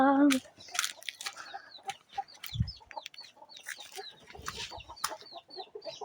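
Several hens cluck and chirp in short repeated bursts, close by, with a brief voice at the start and soft rustling between calls.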